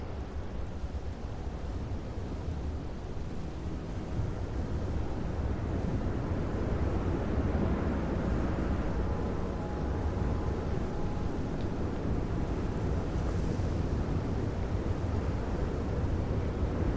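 Steady rushing wind with hissing, blowing sand across desert dunes in the video game Journey, a broad continuous whoosh that swells slightly midway and carries on without voices.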